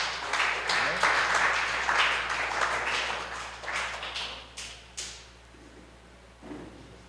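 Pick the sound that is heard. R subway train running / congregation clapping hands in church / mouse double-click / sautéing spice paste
congregation clapping hands in church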